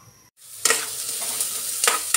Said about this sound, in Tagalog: ginigisa na natin yung bawang, sibuyas, at luya